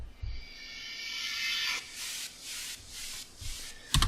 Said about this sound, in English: Then we have some white noise.